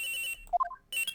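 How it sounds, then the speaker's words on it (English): An electronic phone ringtone from the video game Ace Attorney Investigations: Miles Edgeworth, a loud trilling ring, a short melodic chime of rising tones, then the ring starting again, with no voices. "Phone call."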